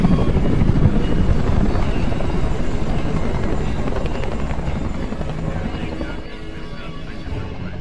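A military helicopter in the war film Lone Survivor thunders close and loud with a dense, rapid rotor chop, fading gradually as it continues, with faint voices mixed in.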